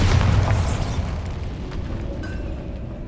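Bombarda blasting spell in Hogwarts Legacy: a loud, deep boom up front that decays into a rumbling tail over a few seconds, alone without voices.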